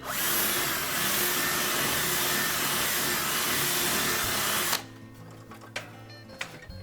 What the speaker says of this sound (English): using about an 1/8 inch bit, we'll drill through there.